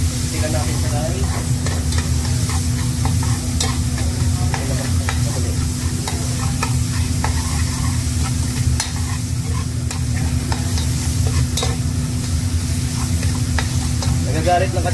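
Garlic fries in a pan for soy garlic sauce, a loud, dense sizzle that runs without a break, with stirring noises throughout and a faint voice beneath.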